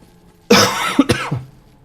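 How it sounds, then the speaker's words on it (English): A single sharp cough followed by a couple of smaller throat-clearing bursts, close and loud, with no other sound around it. "that's my one cough a day"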